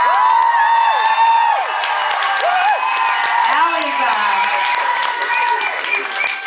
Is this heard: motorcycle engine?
no